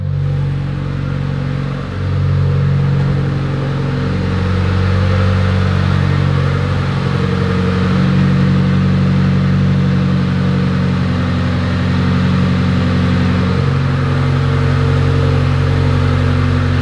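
A Mitsubishi Evo X engine idles in a steady, loud, close drone with a low hum and a constant whir, and the note dips briefly after the first couple of seconds.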